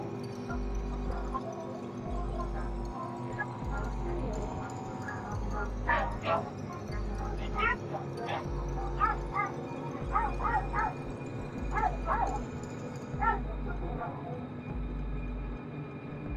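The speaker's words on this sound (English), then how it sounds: "knocking so loudly that it caused the dogs around to bark" Several dogs bark in scattered bursts at a moderate distance, over a steady low hum, with quieter yips between the barks.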